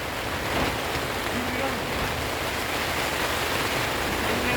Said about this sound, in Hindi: रात भर से बारिश हो रही है।